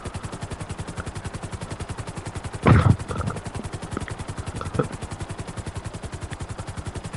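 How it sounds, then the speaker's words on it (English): A helicopter in Grand Theft Auto Online flies steadily, its rotor chopping in a fast, even pulse throughout, with a louder burst of gunfire-like noise near the middle. "it's definitely not the quickest helicopter"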